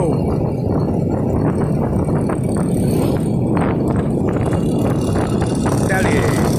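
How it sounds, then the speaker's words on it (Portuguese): An 80cc motorized bicycle engine runs steadily and close, a buzzy continuous drone under outdoor background noise with some faint voices. "motorzinho 80 cilindrada, bike motorizada, é ótimo"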